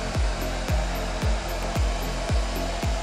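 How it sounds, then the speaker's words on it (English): A blow dryer on its hottest setting heats poured acrylic paint, giving a steady loud whir with repeated rhythmic thumps and dips about every half second, and no talk. "We are using the hottest setting on a blow dryer to more or less paint the cells on the surface."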